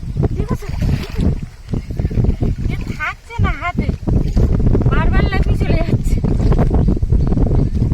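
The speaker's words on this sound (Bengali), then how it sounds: "আজকে তুফান হচ্ছে নদীতে যেহেতু ঝুড়ো বাতাস বইছে যার জন্য নদীর ঢেউ এসে আছড়ে পড়ছে তীরে" A stormy wind gusts over a Sundarbans river while waves break on the bank during rainy-season fishing. A loud, continuous roar buffets the microphone, and someone talks over it.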